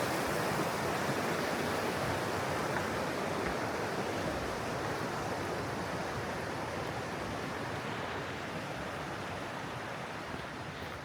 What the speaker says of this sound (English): It's the convergence of two different creeks over there.